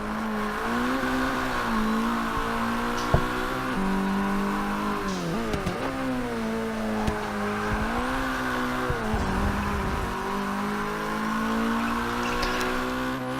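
A Mazdaspeed 3 race car lapping the Sonoma short circuit, its engine droning steadily with rising and falling revs through gear changes and brief tire scrubs, heard from inside the car with no talking.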